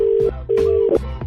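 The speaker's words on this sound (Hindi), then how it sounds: "ये कुछ लोग हैं जिनको फोन करूंगा मैं" A telephone keypad being dialed: two long steady tones, each followed by a shorter beep, sounding clearly and close with no talking.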